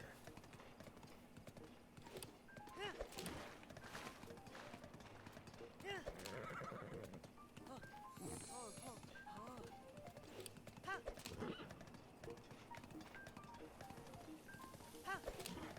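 A horse galloping and neighing in Zelda: Breath of the Wild, with steady rhythmic hoofbeats and several whinnies over game music while someone talks throughout.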